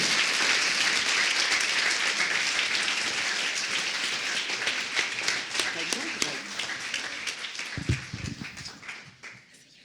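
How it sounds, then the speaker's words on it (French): Audience at a master class applauds to welcome Valérie Bacot, a dense loud wave of clapping that thins into scattered claps and fades, with a few low thumps near the end. "je vous demande de l'encourager par vos gentils applaudissements, Valérie Bacot"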